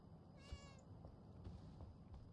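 A trapped cat in the game Enshrouded meows once, a clear, fairly faint cry standing alone over a quiet background with a few soft taps.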